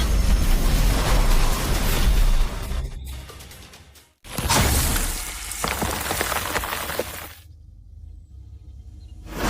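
An anime ice-magic blast, loud and close: a dense roaring burst of shattering and crackling debris that cuts out sharply, then a second crashing surge of breaking ice that rushes and fades to silence.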